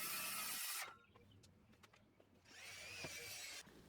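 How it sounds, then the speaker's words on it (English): A loud power saw whines through a wooden table, cuts out briefly, then buzzes again with a few knocks and clatters in between. "With the sanding mostly done, I cut the table to its final dimensions."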